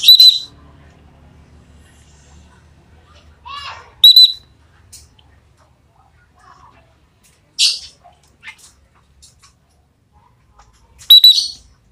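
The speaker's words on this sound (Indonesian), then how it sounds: "kita pakai fluid ultrasonik ini, jadi suaranya ini melengking, jadi dari jauh pun bisa kedengeran" A shrill ultrasonic whistle used to train free-flying lovebirds sounds in short piercing bursts, about four separate blasts spread evenly apart, with faint chirps and low room noise between them.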